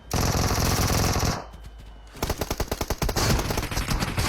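Loud, close automatic gunfire from a video game, with a sustained burst, a brief lull, then rapid rhythmic shots continuing to the end.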